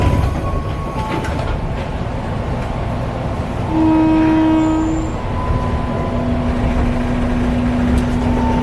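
A commuter train heading to Pancasila station in Jakarta rumbles along steadily from inside a carriage, with a drawn-out horn-like tone midway and faint mechanical whines over the constant noise.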